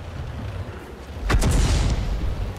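Artillery shell fired and exploding in the World of Tanks video game, a single loud booming blast about halfway through over a steady background rumble, with no talk.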